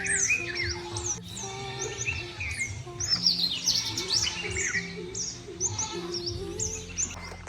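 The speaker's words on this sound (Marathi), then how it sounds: "पक्ष्यांचा आवाज वगैरे पाहू शकतात किती छान येतोय." Village birds at dawn fill the air with lively chirps, tweets and squawks, overlapping calls from several birds nearby, with a low background hum and no talking.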